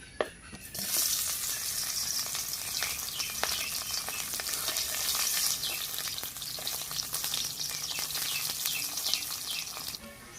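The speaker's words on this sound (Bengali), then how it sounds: "ভাজা মাছ আবার কিন্তু একটু ভেজে নিলাম" Pieces of fried fish, bata fish already fried once, sizzle again in hot oil with tempering spices for a fish curry with ash gourd, a steady close frying hiss with occasional stirring scrapes throughout and no talk.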